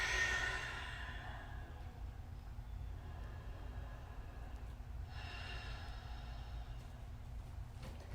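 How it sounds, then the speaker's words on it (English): Slow breath during a yoga session: a full inhale, then a long, drawn-out exhale, soft and airy over a steady low background hum. "Full body inhale. Long body exhale."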